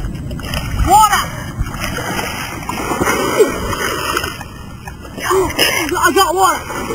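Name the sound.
water splashing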